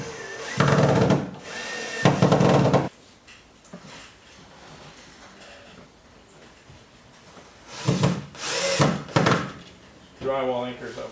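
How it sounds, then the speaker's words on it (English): A cordless power drill drives screws through drywall into a ceiling stud while a ceiling light panel is mounted, giving two loud whirring bursts early, a quieter stretch, then more bursts near the end. "I can use the drill."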